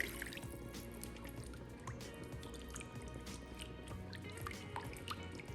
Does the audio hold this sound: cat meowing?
no